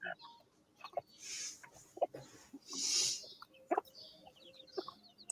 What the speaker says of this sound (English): but there's some little chickens around there